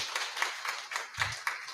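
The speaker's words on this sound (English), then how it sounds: "Round of applause" A few people clap in quick, fairly even rhythm at a commemoration ceremony, moderately loud, a short burst of applause with no voices.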